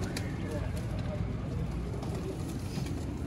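Pigeons coo softly amid a dense, steady murmur of background noise, the calls faint and blended into the din, with people talking nearby.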